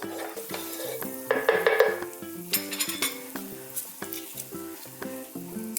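Tomato halves sizzle cut-side down in a shallow-fried pan for a spinach cream pasta, with steady close frying crackle and repeated metallic clinks of a utensil against the pan.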